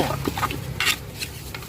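A run of dull knocks and thuds at an uneven pace, a pestle pounding into a mortar while making a Thai spicy salad, fairly close with a soft background hiss.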